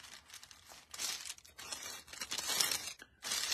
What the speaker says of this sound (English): Just love the rustling, sound of the rustling of the pages.